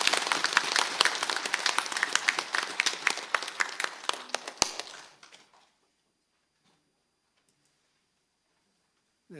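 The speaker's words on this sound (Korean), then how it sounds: "축하의 박수입니다." A Won Buddhist congregation at a Sunday service claps steadily for about five seconds, then the applause fades into near silence.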